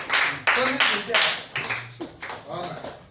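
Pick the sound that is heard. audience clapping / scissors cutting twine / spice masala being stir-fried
audience clapping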